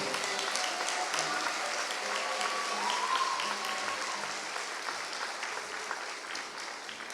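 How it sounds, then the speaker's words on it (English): A graduation audience at a Peralta Colleges African American ceremony applauds in a sustained, somewhat distant wash of clapping that slowly tapers toward the end, with faint voices mixed in. "Come on, let's give her a round of applause."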